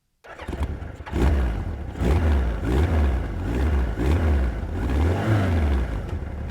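A 1983 Mitsubishi Galant GLX with a 2000 cc engine starts and runs close by, its engine note rising and falling in repeated revs over several seconds, with no talking.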